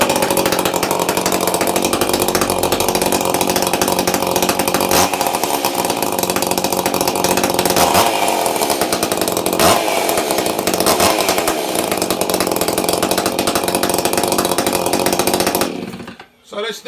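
A hot-rodded Stihl-style 241C chainsaw runs loud and close in a steady, continuous snarl for most of the stretch, with brief dips in pitch, then cuts off abruptly near the end.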